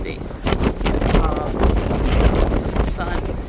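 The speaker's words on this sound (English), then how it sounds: "It's really windy." Strong wind buffets the microphone on the pink granite coast of Brittany near Roscoff, with white caps and waves below. The roaring gusts rise and fall in heavy, uneven bursts the whole time.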